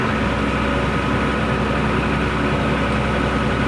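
A tractor engine runs steadily in second gear, a loud, continuous low rumble with no change in pace, close by and alone.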